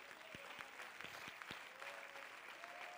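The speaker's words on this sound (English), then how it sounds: "Clap for Jesus." A congregation claps during a church service. The clapping is steady and fairly quiet, with a few sharp, distinct claps, and a faint sustained tone runs underneath.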